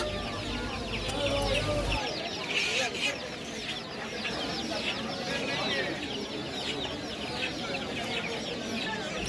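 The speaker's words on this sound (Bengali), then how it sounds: "এখানে যে দেখতে পাচ্ছ এগুলো ছিল মুরগির বাচ্চা" Many small chicks cluck and peep continuously at a bird market in Kolkata, a busy overlapping chorus close by, with voices talking faintly in the background.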